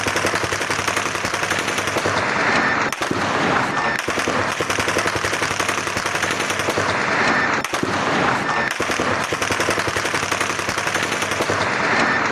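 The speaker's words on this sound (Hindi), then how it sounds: "सुनवाइए जरा कैसे गोलियां बरसाई जा रही हैं" Dense, continuous bursts of rapid gunfire rattle throughout, loud and sustained with brief pauses, like automatic weapons firing nearby.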